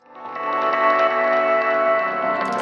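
A lush processed tone swells up and hangs, its reverb tail echoing over and over through a delay, dense and smeared, then briefly clipped at the end.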